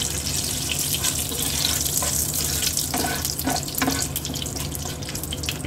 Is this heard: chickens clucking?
no